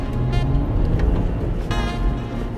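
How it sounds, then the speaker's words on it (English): 2018 BMW 340i ZHP with manual transmission driving in comfort mode, its engine a steady, loud, low droning hum from inside the car with no talk over it. "Engine sounds wonderful"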